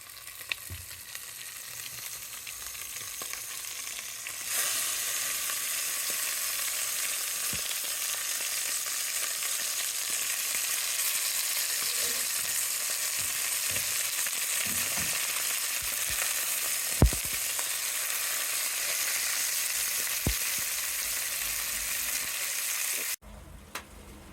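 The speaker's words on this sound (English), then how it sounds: "All right, beef is cooking." Beef sizzles steadily in a hot pan for chili con carne, a dense continuous frying hiss close by with occasional small pops and clinks, no talking.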